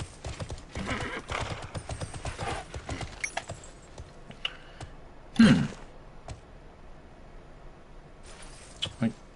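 Horse hooves clip-clop in a steady run with one loud neigh midway, from the online role-playing game TERA, while someone talks over much of it.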